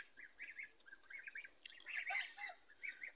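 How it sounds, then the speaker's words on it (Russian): Several grey geese honk and cackle in short, overlapping calls at moderate distance, a lively chattering flock with no talking. "Вот эти серые гуси"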